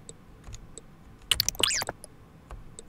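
Computer keyboard keys are pressed while a video game is played: scattered single taps, then a quick cluster of several loud clicks in the middle, then more sparse taps close by.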